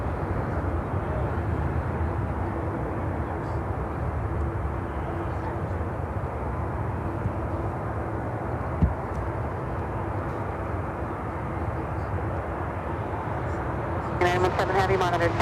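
Lufthansa Airbus A350-900 at Chicago O'Hare on its takeoff roll toward Munich: a steady, broadband jet engine roar from a distance with a faint low hum, holding evenly throughout.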